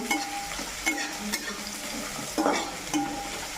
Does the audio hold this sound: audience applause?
no